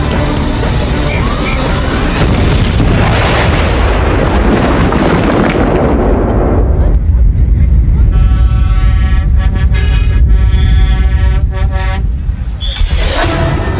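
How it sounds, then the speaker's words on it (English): A massive roaring explosion of a tanker truck filled with hexane, with a long rumbling blast that dies away, followed by distant horns sounding under a continuous low background noise on a highway. "a highly volatile chemical that erupts in a massive explosion"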